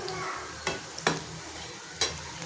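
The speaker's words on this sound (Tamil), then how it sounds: "இதோ எண்ணெயில் வெந்துனே இருக்குது." A dough snack seasoned with salt, coriander and cumin fries in hot oil with a steady low sizzle, broken by a few sharp clinks or stirs close by; no talking.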